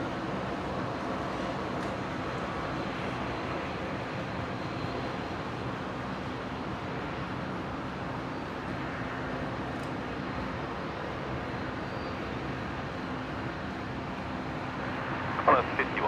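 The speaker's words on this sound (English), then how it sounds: "that aircraft is about 3 kilometres from me in a straight line" A distant aircraft at Brisbane International Airport produces a steady low engine rumble across the field, faint and continuous, with someone talking over it.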